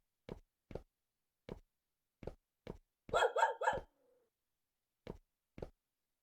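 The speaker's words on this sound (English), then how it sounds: "Toy dog that can make noises." A toy dog in the horror puzzle game Firework gives a run of short, evenly spaced synthetic barks, then a brief burst of three quick yips, alone against dead silence.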